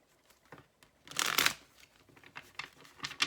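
Tarot cards are shuffled close by, soft riffling flicks building to a loud rapid burst, then a few lighter shuffles trailing off.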